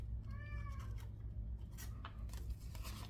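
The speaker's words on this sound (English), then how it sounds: "That cat's distracting." A cat gives one short, clear meow close by over a steady low hum, followed by faint rustling and handling noises.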